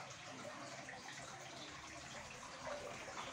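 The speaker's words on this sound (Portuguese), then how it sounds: "Aqui tem um barulho d'água aqui, né? Deixa eu mostrar aqui. Olha, tem uma fonte aqui na área dela" An outdoor water fountain in a garden area splashes with faint, continuous rushing and trickling that swells slightly near the end, heard from a short distance with no talk.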